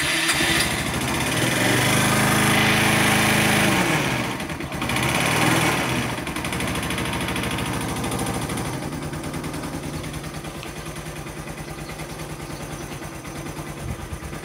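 A motorcycle engine fires up with the choke on and runs continuously, a buzzing, high-pitched single-note drone. It is loud at first, then dips and settles into a steady, slightly quieter running tone, alone and close.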